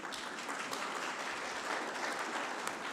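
Applause at a company annual general meeting as a lottery services team is recognized, a full steady round of clapping from the audience across the whole stretch, recorded from a distance and fairly quiet.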